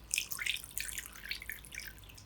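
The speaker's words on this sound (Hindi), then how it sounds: "पानी में सिरका डालेंगे" Vinegar poured into a bowl of water for washing chicken wings, heard as a soft, close trickling splash with light dripping, steady and quiet with no voices.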